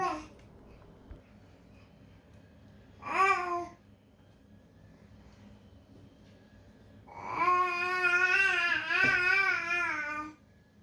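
A baby babbles in short, high, melodic bursts, one brief coo early on, then a longer drawn-out vocal stretch near the end, heard close over a quiet indoor background.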